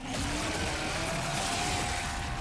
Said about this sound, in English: This chainsaw has a 14-inch blade with that signature meaty yet intimate sound, and when it revs, you can hear all the gnarly details.